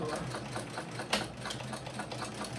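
A sewing machine runs steadily, stitching rows along a backpack, its fast even whirring chatter close and unbroken, with one brief louder clack partway through.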